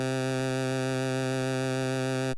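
A single sustained 8-bit synth note with a bright, buzzy chiptune tone and a faint wavering vibrato, holding steady and alone for about two seconds.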